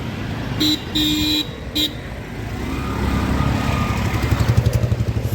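Street traffic heard while crossing a road, with several short car horn toots early on, then the rising, rumbling engine of a passing vehicle, nearby and loud.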